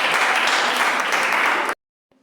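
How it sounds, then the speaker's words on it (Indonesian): A classroom of students applauds a student group with dense, even clapping that holds steady for almost two seconds, then cuts off sharply into silence. "tepuk tangan untuk kelompok ini"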